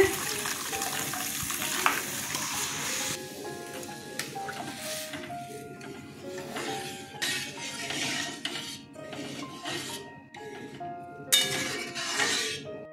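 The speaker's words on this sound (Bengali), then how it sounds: "মশলাটা কষানো হয়ে গেছে, ডালটা ছেড়ে দিচ্ছি।" Chana dal tipped into a pan of fried spice mix sets off clinks and scrapes of a utensil against metal over a steady frying sizzle, with the sizzle flaring briefly and a few louder clatters.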